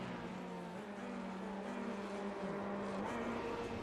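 A Dallara F3 race car in a race, its engine a steady, moderately loud drone with shifting pitch as it passes, continuous throughout with no voices over it.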